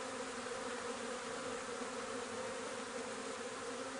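Steady, dense buzzing of many honeybees from an open nuc hive being inspected, a continuous close hum with no pauses and no voices.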